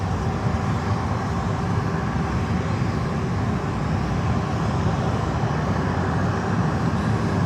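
An airliner at Fort Lauderdale airport produces a loud, sustained jet engine roar, dense and unbroken from start to finish, with no talking.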